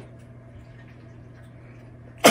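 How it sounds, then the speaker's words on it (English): A single sudden sneeze bursts out near the microphone at the very end, loud after a stretch of quiet room hum. "I hate when I sneeze like that."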